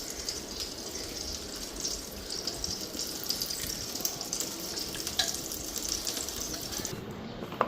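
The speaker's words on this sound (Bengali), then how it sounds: "ওইদিকে মাংসটা ভালো করে ধুয়ে নিই।" Meat is rinsed under a running kitchen tap, a steady splashing water stream with small clatters and sloshes close by, and a voice can be heard faintly at times.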